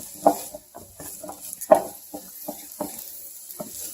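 Vegetables fry dry in a hot pan over high heat, stirred with a spoon that clinks and scrapes in scattered strokes over a faint, steady sizzle, close and without talk.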